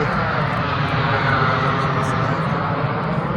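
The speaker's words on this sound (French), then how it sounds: "les avions, il y a la base militaire à côté, c'est pour ça" Military aircraft from a nearby air base pass overhead with a loud, steady broadband engine roar that fills the whole stretch, close and unbroken.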